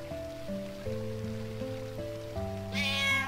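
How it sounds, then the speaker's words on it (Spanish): A cat in Final Fantasy IX is heard as a short run of meow-like tones riding over stepped background music, with a patter of rain-like noise joining near the end; no voices. "¿Eso es un gato o un demonio?"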